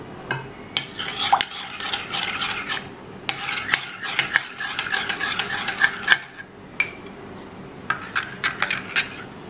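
Oil being mixed into a bowl while making chicken pizza dough, with scraping, rubbing stir strokes and light clinks of a utensil against the bowl, close and fairly quiet in uneven bursts.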